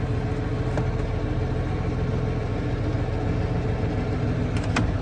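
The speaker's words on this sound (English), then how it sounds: "I'm going to turn the PTO on here" A 1992 John Deere 4055 tractor engine runs at a steady idle, close and continuous, with a couple of faint clicks as the PTO is engaged.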